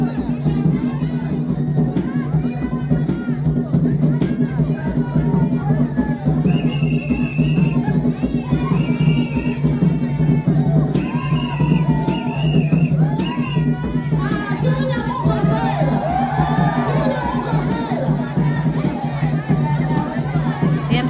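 A lively crowd at a Zambian kitchen party, with dense chatter and babble, music-like tones and scattered whoops and cheers rising in the second half.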